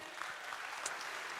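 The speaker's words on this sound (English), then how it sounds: "Everyone, round of applause for Q." Audience applause at an event, dense steady clapping from a crowd, fairly distant and moderate in level for the whole short stretch.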